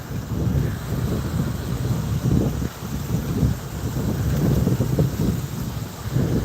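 Gusty wind buffets the microphone at a Sandals resort in Jamaica, a low, uneven roar that swells and eases in waves without pause.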